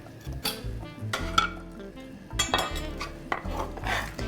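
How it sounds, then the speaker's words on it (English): Onions and carrots sautéing in olive oil in a heated 6-quart pot for an Italian bean soup: a spoon clinks and scrapes against the pot in irregular strokes over a faint sizzle, fairly quiet and close, with no talking. "now we're going to saute the onions and carrots"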